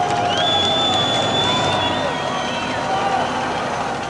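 Street crowds cheer and shout as armored vehicles carrying Yeltsin supporters roll through Moscow during the Soviet coup, a loud, continuous wash of voices over engine rumble and rising and falling whistles and calls.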